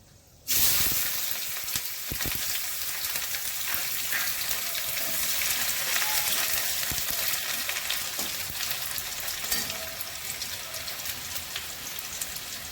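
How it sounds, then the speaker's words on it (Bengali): Chopped onion dropped into hot white oil with whole garam masala spices for palak paneer, bursting into a loud, steady crackling sizzle that continues throughout at close range. "গরম মশলা ফোড়ন করছি, পেঁয়াজ কুচি দিচ্ছি"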